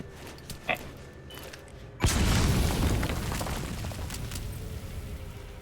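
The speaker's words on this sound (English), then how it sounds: "Just heard an explosion." Explosion in the video game Metal Gear Solid V: The Phantom Pain, a sudden loud boom about two seconds in that rolls on into a long rumbling tail, preceded by quieter ambient noise and a brief click.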